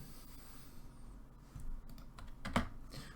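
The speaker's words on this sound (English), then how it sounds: "let's just type it in" Typing on a computer keyboard, a scatter of faint key clicks over quiet room hiss with one sharper, louder clack near the end.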